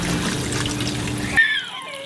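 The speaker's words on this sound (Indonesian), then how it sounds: "Di sini beda, Mi. Hanya untuk mencuci daging ayamnya saja." Water running and splashing while raw chicken meat is washed with turmeric, a steady trickle that stops abruptly partway through, leaving a faint ringing tail.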